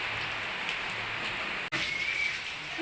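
Steady rain pours down at an outdoor funeral service, a dense even hiss on surfaces throughout with one brief dropout, and no voices heard.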